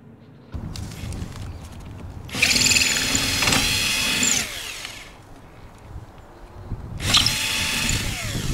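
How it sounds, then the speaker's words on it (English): A power drill bores holes for screws to attach a plastic cover, running in two loud, steady bursts of several seconds each, separated by a quieter pause. "all I'm gonna do is just drill 4 holes and then, you know, attach them with these screws"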